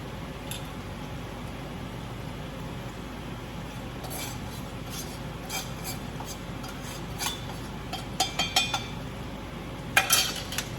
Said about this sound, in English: I will stir this into the onion mixture